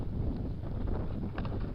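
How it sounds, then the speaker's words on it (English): A wind gust batters the microphone in an outdoor potato garden, making a steady, loud, low rumble that swells briefly near the end, with no talking. "Oh, wind gust."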